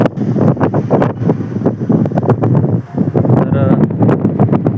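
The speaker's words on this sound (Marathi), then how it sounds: "समोर अथांग पसरलेला हा अरबी समुद्र" Strong wind buffets the microphone on the Harihareshwar shore of the Arabian Sea, with surf washing in behind it and a voice breaking through at times.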